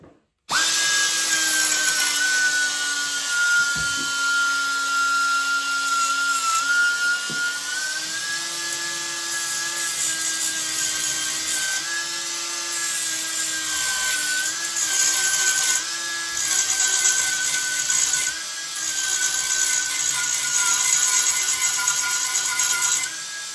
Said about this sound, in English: So I continue grinding